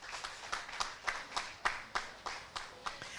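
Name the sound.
audience applause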